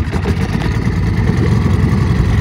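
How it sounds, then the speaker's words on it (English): A small pull-start engine, likely on a boat, runs loudly and steadily with a rough, rattling idle close by, no speech over it. "The engine started a first crack"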